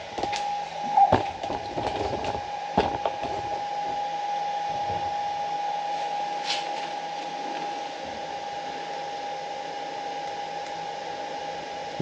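An EGO Power+ HPW3200 electric pressure washer runs in turbo mode with a steady, close whine and hum, broken early by a few clicks and knocks.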